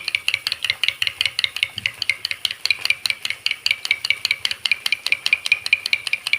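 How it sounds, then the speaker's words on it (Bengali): Yogurt being whisked briskly in a bowl, a steady fast rhythm of light scraping clicks repeating several times a second, close and continuous with no talk. "আমি ভালো করে দইটাকে ফাটিয়ে নেব"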